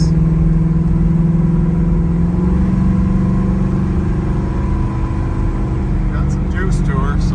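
A 1972 Chevrolet Nova Yenko clone drives along with a steady, low engine drone, and its pitch shifts slightly as it goes from second to third gear.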